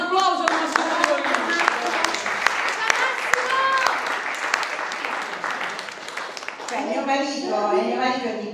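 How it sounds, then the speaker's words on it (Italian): An audience at the 2023 Milazzo International Film Festival gives a warm round of applause in tribute to the Italian actor Massimo Troisi: dense, sustained clapping with voices talking over it. "Quindi un applauso per Massimo Troisi."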